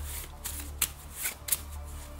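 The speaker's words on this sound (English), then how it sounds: "Give these a good shuffle." Playing cards for a tabletop board game are shuffled close by, a soft continuous riffle broken by a few crisp snaps as the deck comes together.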